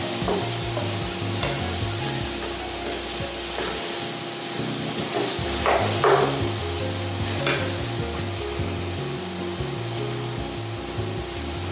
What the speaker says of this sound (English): I'm going to add our bell pepper, then the pineapple. Yeah, I'm just sauteing this until it gets a little more colorized.